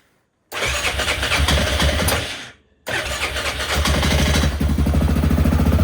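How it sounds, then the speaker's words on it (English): A Yamaha Grizzly 600 ATV engine cranks on choke and catches twice, sputtering briefly between attempts, then settles into a loud, steady running chatter close by. "Okay, she fired up."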